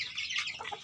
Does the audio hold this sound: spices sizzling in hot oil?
no